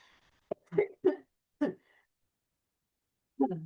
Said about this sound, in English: That cough still lingering.